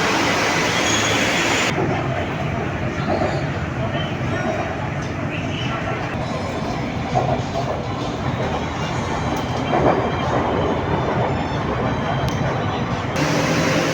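A Bangkok BTS Skytrain on the dark green line rolls into the Bang Wa terminus with a steady, loud rumble and rail noise. Someone talks throughout in Thai over the train.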